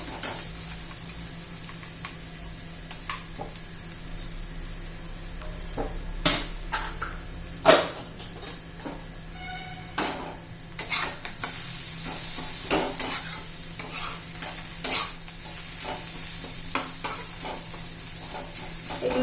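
Moong chutney roasts in a hot pan with a low, steady sizzle while a spatula stirs and scrapes at irregular intervals, producing sharp knocks and clinks against the metal, close and without speech.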